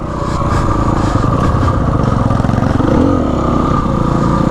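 A KX or KTM dirt bike engine drones loud and close while riding trails at Rampart Range, holding a steady buzzing pitch with slight throttle swells and faint clatter.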